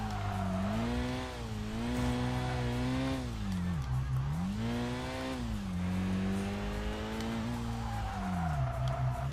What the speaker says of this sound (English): the CRX is taking these corners surprisingly well